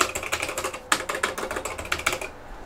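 Rapid typing on the keyboard of a Dragon 32 home computer, a steady run of close, clattery key presses with a few heavier strokes, stopping just before the end.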